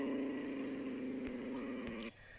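A family dog growls in a low, sustained rumble that runs steadily for about two seconds before cutting off abruptly, close and moderately loud with no talking over it.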